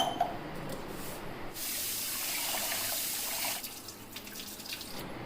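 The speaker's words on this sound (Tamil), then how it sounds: "ஒரு 2 டைம் அரிசி கழுவிக்குவோம்." Running water splashes into a vessel as rice is rinsed, a continuous faucet-like gush swelling in the middle and then easing, with small drips and stirring, no voices.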